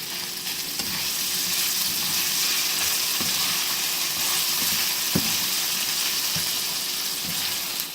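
Hash browns frying in oil in a pan, a steady loud sizzle with a few soft clinks and stirring knocks, no talking.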